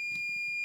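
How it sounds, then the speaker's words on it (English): A Flipper Zero used as a continuity tester across a wire gives a steady, high, clear electronic beep that holds for the whole moment at moderate, fairly quiet volume, like a multimeter, with no one talking. "Okay, so it beeps just like a multimeter"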